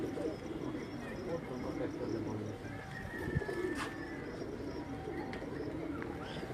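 Pigeons of a crossbred flying strain coo softly on a Rawalpindi rooftop, the low murmuring steady throughout amid faint outdoor background noise.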